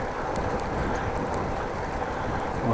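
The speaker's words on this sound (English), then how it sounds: "a little bit of headwind now" Headwind buffeting a microphone while cycling through a wooded area, a dense, steady rushing roar that fills the whole stretch without pause or voices.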